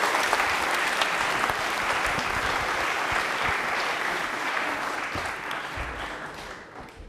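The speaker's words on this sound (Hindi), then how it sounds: "वंदना के लिए तालियां जोरदार वाली होनी चाहिए।" A studio audience at a televised general-knowledge quiz show breaks into loud, sustained applause that fills the room and tapers slightly toward the end, with no voices over it.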